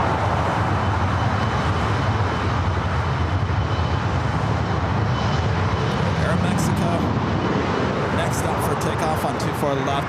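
An airliner takes off from runway 24 left at LAX, its engines giving a steady, loud broadband roar that holds throughout, with faint distant airport noise mixed in.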